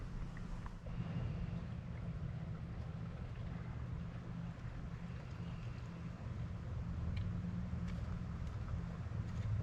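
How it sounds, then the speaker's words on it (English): Gusty wind buffets the microphone outdoors at a campsite, a steady low rumble that holds from start to finish with no voices. "pardon for any wind noise"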